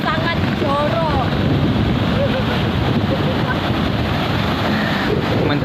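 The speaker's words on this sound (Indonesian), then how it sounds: "nikmati dulu suasana pantainya" Idi beach in East Aceh, with surf washing in continuously and wind roaring against the microphone at a loud, steady level, while faint voices come through in the background.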